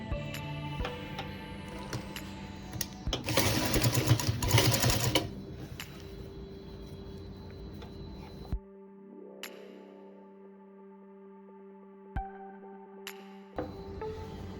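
A sewing machine stitches down a folded fabric strip on a baby's bandi vest, running in quick bursts with a loud fast whirring spell, then stops and starts with clicks and handling noises.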